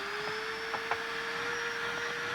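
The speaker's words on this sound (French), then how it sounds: "Je suppose qu'il y a un aspirateur quelque part par ici." A cartoon vacuum cleaner runs with a steady, even whine that holds throughout, with a couple of faint clicks near the start.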